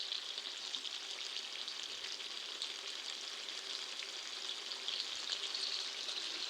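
Pieces of rohu fish fry lightly in hot oil, giving a steady, even sizzle with soft crackling throughout and no talk.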